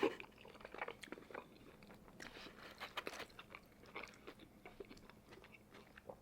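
Someone chews spicy rice cakes and fish cakes up close, with soft sticky bites and crunchy, wet mastication sounds repeating quietly across the clip.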